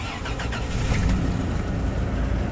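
Engine of a 1990 Toyota Land Cruiser cranking and catching, a rough dense rumble that settles into a steady running drone, close and loud with no talk.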